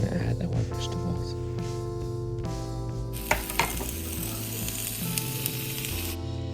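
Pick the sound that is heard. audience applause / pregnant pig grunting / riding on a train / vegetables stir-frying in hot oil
vegetables stir-frying in hot oil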